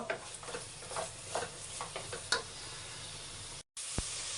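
Chili and coriander powder mix frying in oil for a brinjal gojju, giving a steady soft sizzle with scraping stir strokes; it drops out briefly near the end, then a sharp clink is heard.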